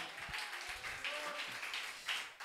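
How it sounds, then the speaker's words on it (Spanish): A church congregation claps in praise, with faint, distant, uneven bursts of applause and a few scattered taps in a reverberant hall. "Dele fuerte aplauso para el Señor."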